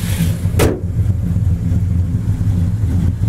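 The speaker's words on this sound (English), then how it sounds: "Listen to that big block motor run." The big block engine of a 1969 Pontiac GTO idles with a steady, deep low rumble, loud and close, with a brief sharp rush of noise near the start.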